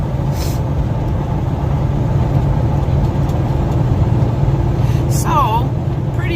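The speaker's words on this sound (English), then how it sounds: "my husband's driving right now" A car drives along the road, heard from inside as a steady, loud low engine and road rumble that continues without a break, with a brief higher hiss near the end.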